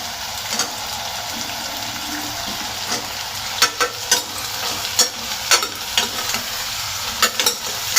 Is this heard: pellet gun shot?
no